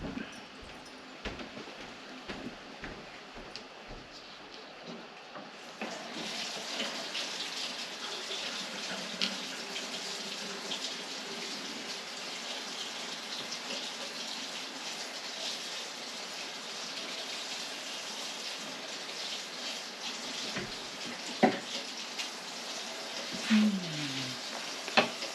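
Water gushes steadily from a tap into a sink as a craft item is rinsed, a close, continuous rushing stream after a few initial knocks, with a couple of clunks near the end.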